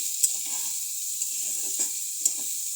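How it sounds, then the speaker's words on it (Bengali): Pointed gourd (potol) fries with green chillies and onion, a steady high sizzle broken by several soft scraping strokes of stirring, close by and unaccompanied by speech. "এখন এটাকে একটু চালিয়ে নেই"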